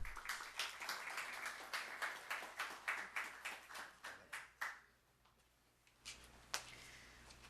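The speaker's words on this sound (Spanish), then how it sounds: "La saludamos con un fuerte aplauso." A small audience gives rhythmic clapping to welcome a guest speaker at a talk on women's political participation in Peru, steady claps for about five seconds that fade out, then a few scattered claps.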